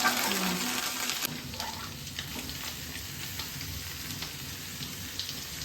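Two onions with a small piece of ginger frying in hot oil in a pan for a simple home-style chicken curry, a steady close sizzle with faint stirring scrapes throughout.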